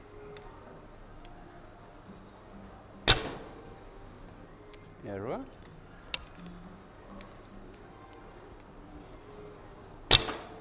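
Two sharp, loud arrow releases from a light horsebow shooting 29-inch arrows, roughly seven seconds apart, each a sudden snap with a brief rising whistle and faint ticks between, outdoors with no talking.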